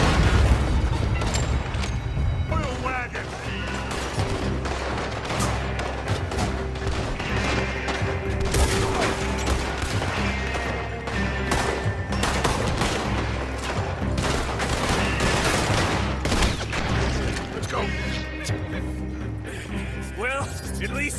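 Dense gunfire from a Red Dead Redemption 2 shootout, with rapid overlapping shots and heavier booms filling the whole stretch, loud and close, while voices shout now and then underneath.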